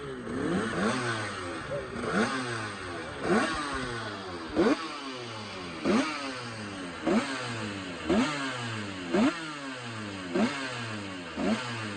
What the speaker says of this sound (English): There's nothing like a two-stroke GP bike. As soon as they start up, people come around to check it out.